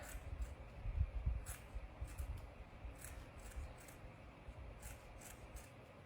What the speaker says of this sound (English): And I'm gonna cut these a little bit bigger.